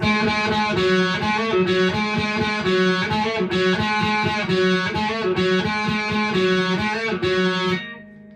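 A heavily distorted electric guitar plays a driving, repeated riff with chugging rhythm, loud and unaccompanied, ending on a ringing held note.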